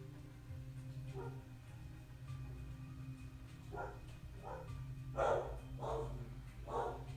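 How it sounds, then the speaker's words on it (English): Several dogs bark in the distance in a short irregular series, growing a little louder toward the end, over a steady low hum in a quiet indoor chair yoga session. "Dogs are barking."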